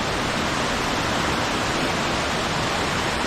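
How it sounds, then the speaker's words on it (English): Waterfall at Khlong Lan on a rainy day, a steady, loud broadband roar of rushing water close by, continuous and unbroken. "just get closer to the waterfall"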